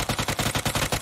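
UMP submachine gun firing in PUBG, a rapid burst of about ten evenly spaced sharp shots in quick rhythm, loud and close with no talk.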